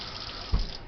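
Water runs from a kitchen sink tap as sticky dough is rinsed off fingers, a steady broadband hiss with a brief louder splash midway.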